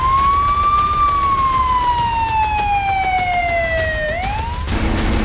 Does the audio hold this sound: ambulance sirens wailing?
yes